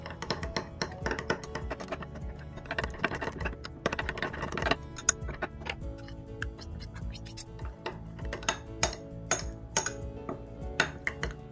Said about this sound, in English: Start mixing all the ingredients together. Make sure you mix well.